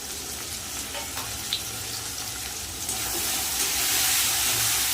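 Steady, loud frying hiss from a pan of cumin-chili paste and chopped tomato, growing brighter toward the end with a few faint clicks mixed in.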